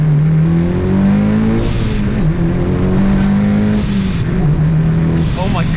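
Turbocharged 4G63 engine in a Mitsubishi Evo 6 pulls hard through very short gears, rising in pitch with quick upshifts and turbo hiss between them, loud and close from inside the cabin.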